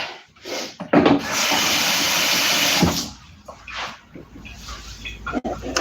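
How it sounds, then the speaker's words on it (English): Tap water runs steadily into a kettle for about two seconds in a kitchen, a loud close hiss, followed by knocks and handling noises. "Hang on, let's get this kettle on. Let's put a bit of water in that."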